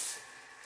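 A bathroom toilet bidet sprayer spraying water, a brief close hiss that is loudest at the start and then fades.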